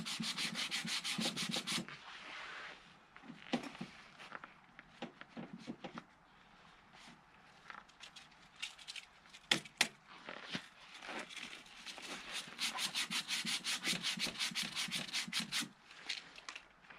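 Rough hand sanding of rust from a wheelbarrow wheel shaft, with steady raspy strokes in uneven bursts and brief pauses, close and moderately loud with a few sharp knocks midway.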